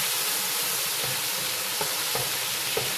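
Ginger garlic paste sizzles and fries in a hot pan, a continuous dense hiss with a few soft stirring scrapes at regular intervals and no voices.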